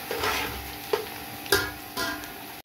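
Onions and three to four bay leaves fry in a pan, a soft steady sizzle broken by several sharp scraping stirs of a utensil, fairly quiet and close.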